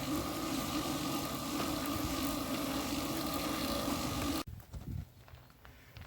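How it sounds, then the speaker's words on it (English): Air rushes out of a leaking inner tube on a 1952 Ferguson TEA tractor tire as a loud, steady, close hiss that cuts off abruptly partway through, leaving faint rustling and clatter. "What you're hearing now is the leak in the tube."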